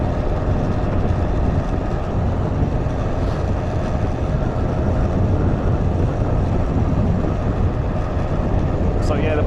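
A warmed-up air-cooled motorcycle rolls along a road on a hot day, its engine drone buried in steady, loud rushing wind noise that stays constant throughout.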